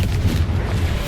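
The Confringo blasting spell from Hogwarts Legacy, a dense rumbling burst of low booming energy that fills the short moment steadily.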